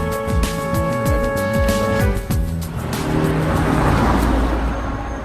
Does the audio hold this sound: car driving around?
yes